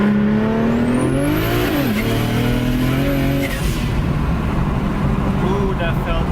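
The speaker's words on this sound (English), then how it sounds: "That turbo sound at the end, it just came out of nowhere" BMW 335i with an N54 engine converted to a single turbo, accelerating hard in second gear, engine note rising then dropping with a turbo whoosh near the end, loud and close from inside the car.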